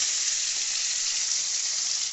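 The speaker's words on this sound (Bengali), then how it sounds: "দেখছেন মাছটা ভাজা হয়েই এসছে" Steady, close hiss of katla fish pieces frying in hot oil, constant and unbroken for a couple of seconds.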